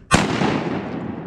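One loud, close shotgun blast during a timber duck hunt in Arkansas, with a sharp crack followed by a long rolling echo through the woods.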